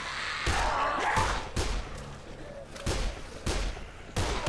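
Gunfire from the video game Dead Island Riptide bursts out in a series of sharp shots at irregular intervals, fairly loud and close, with no talk over them.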